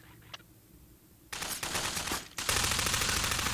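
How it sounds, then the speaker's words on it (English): SMG gunfire in a Half-Life 2 custom campaign mod, loud sustained automatic bursts starting after a quiet moment, nearly continuous with a brief gap. "let's just go with the SMG here."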